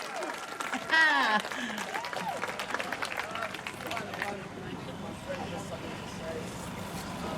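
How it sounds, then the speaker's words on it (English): Crowd applause at a trans pride march: a burst of clapping and cheering from a gathered crowd with shouts, fading into street hubbub and voices. "A big round of applause to the double Ds, girl!"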